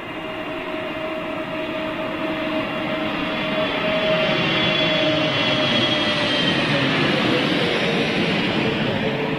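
An SAS Airbus A320neo jet passes at Heathrow with a steady, broad engine roar that swells slightly midway and holds, with a faint whining tone running through it and no talk.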